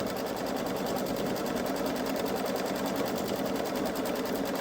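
A Baby Lock Solaris embroidery machine stitches the pads of Easter bunny feet in the hoop, giving off a steady, fast mechanical whir with an even rapid needle rhythm, close and continuous without voices.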